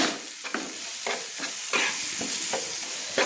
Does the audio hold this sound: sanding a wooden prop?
no